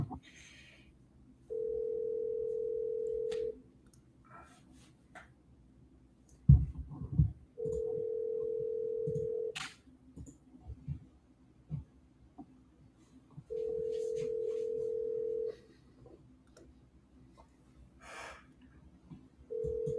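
An automatic double dialer places a call over a phone line, with a steady tone sounding in several long bursts separated by gaps, and faint background noises between them.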